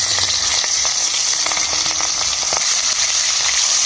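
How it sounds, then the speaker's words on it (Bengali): Hilsa fish pieces frying in hot oil in a wok, giving a dense, steady sizzle and crackle that stays loud and close throughout with no talking. "এবার একে একে করে মাছগুলো ভেজে নেবো"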